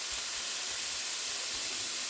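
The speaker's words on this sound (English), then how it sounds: "It's a slow cook to get those leeks nice and tender here." Leeks cooking slowly in a pan over medium heat give off a steady, soft sizzling hiss that holds even throughout, close and alone.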